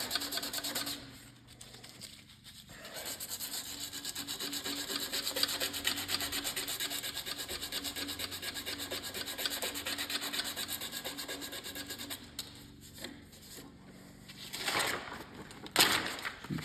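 Steady scraping and rubbing of abrasive sanding rust off metal on a tiller engine, continuous strokes with brief pauses, close and moderately loud.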